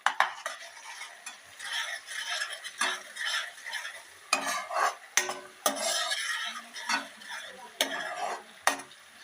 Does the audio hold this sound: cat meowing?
no